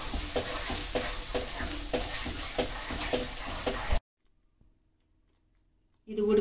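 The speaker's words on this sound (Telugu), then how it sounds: "ఇది ఉడుకుతుంది కదా." Tamarind juice for a sweet chutney is stirred in a pan as it cooks, a steady wet sizzling and scraping for several seconds, then silence before a brief return of sound.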